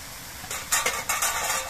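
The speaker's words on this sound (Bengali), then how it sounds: "ধনেপাতা কুচি দিয়ে একটু নেড়ে চেড়ে মিশিয়ে দিতে হবে।" Chopped coriander leaves being stirred into softened flat beans (shim) in a pan, giving a few soft scraping and rustling strokes over a faint sizzle, close and fairly quiet, with no talking.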